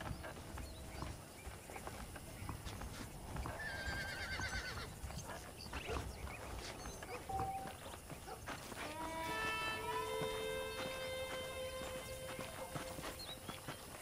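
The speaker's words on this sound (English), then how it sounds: "The horses are saddled up over here." In Red Dead Redemption, horses whinny and snort as hooves clip-clop steadily nearby, over a busy outdoor ambience with scattered rustling and a few bright tones.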